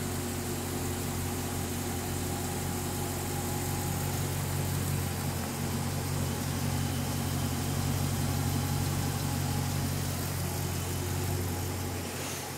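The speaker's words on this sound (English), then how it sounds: "this car absolutely rumbles" A Scat Pack muscle car idles with a deep, steady rumble, its low throbbing engine note constant and close throughout, with no talking over it.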